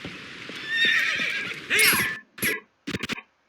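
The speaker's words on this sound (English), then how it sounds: "You play Epona's song with the grass. And she comes running." Epona the horse from Zelda: Twilight Princess neighs loudly in a long whinny, followed by a few short snorts and quick clip-clopping hoof beats, close and clear with no talking.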